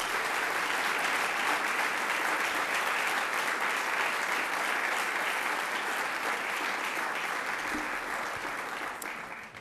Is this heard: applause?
yes